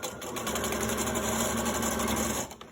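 Sewing machine stitching fabric for a chicken grocery bag holder, a steady close mechanical whir running without a break, then stopping at the end.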